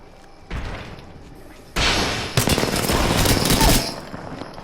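Automatic gunfire from a gunfight in the video game Apex Legends, rapid bursts that start abruptly and run loud and dense for several seconds, with sharp cracks layered over a continuous roar.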